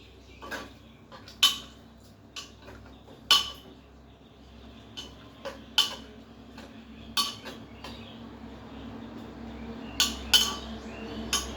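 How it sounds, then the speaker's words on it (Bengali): A spoon clinks against a metal pot in a string of sharp, close taps at irregular intervals, over a quiet background. "তারপরে চামচ দিয়ে আমি একটু নেড়ে দিই।"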